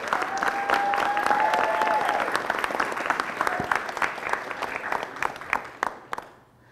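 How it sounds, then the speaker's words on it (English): A crowd at a high school letter-of-intent signing for a student athlete gives a loud round of applause with a few whoops, the clapping thinning into scattered claps before stopping. "Let's give him a round of applause today"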